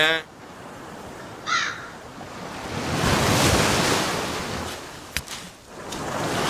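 Rough sea surf surges and roars steadily along the shore under gusty wind, with a crow cawing briefly near the start.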